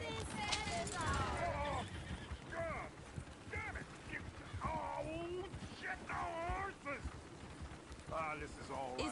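Horses in the Red Dead Redemption video game, several loud whinnies and neighs over clopping hooves, with people talking in between.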